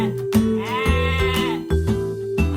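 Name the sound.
sheep bleating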